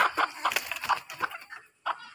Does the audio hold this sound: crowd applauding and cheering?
no